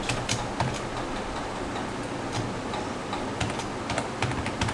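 Rapid, steady keystrokes on a computer keyboard during HTML coding, close and fairly loud, with clicks running continuously and no voices over them.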